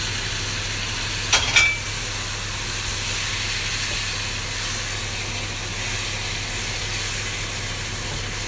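Tomatoes sizzling in a pot while chicken noodle soup is cooked, giving a steady hiss with a brief clatter early on.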